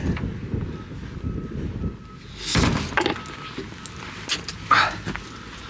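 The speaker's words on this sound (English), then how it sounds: "It's very windy." Steady blustery wind roaring across the microphone in freezing winter cold beside a CAT excavator, with gusts swelling and a few knocks and thumps mixed in.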